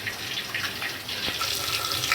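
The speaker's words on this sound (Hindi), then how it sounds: "अब थोड़ा पानी डाल के इसको मिक्स कर लेंगे।" Water is poured into a spice mix of coriander powder and salt for a dahi aloo curry, a steady running, splashing flow heard close and alone with no talking.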